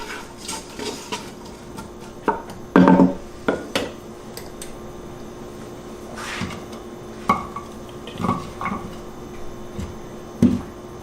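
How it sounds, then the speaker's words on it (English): A spoon knocks and scrapes against a cooking pot of onions for chili, giving a few distinct clinks and taps among quieter stirring with soft background noise. "Give it a little stir."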